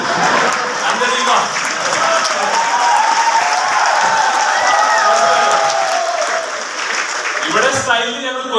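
An audience claps at an executive meet in a hotel hall in Ernakulam, Kochi, a sustained burst of crowd applause with voices talking and cheering over it, fading near the end.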